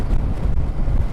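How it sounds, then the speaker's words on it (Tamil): Steady wind buffets the microphone in a low, rough roar for a brief moment, with no voices, on a motorcycle ride in the hills of South India. "காற்றடிக்குது."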